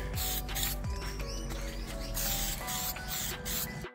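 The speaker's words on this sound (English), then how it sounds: "The airflow meter sprays well, I think, while I'm there." An aerosol can sprays a second coat onto an airflow meter, giving a steady close hiss with short breaks between passes.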